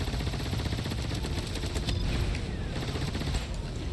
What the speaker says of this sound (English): my grenade launchers are kind of useless